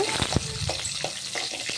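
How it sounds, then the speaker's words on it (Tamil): Shallots and garlic sizzle and fry in a pan for a Tamil egg curry, with a few sharp stirring scrapes and clicks over a steady hiss, close up. "சின்ன வெங்காயத்தையும் வெள்ளைப்பூடையும் இதோட ஆட் பண்ணிக்கோங்க நல்லா வதங்க விடுங்க"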